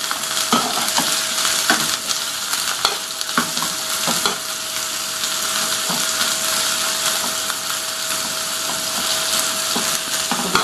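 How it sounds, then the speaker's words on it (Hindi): Onions fry for palak dal in a pan, a loud, steady close sizzle with a faint constant hum and intermittent scraping stirs, no talk. "जब तक ये फ्राई होती है मैं आपको दिखाती हूँ फ्राई करके"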